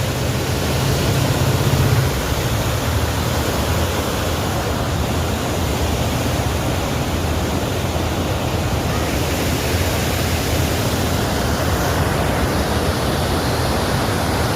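Water pours over the Manasarovar dam on the Kagadiya river near Lathi in Amreli district, a loud, unbroken rushing roar with a deeper rumble, steady and close, without voices.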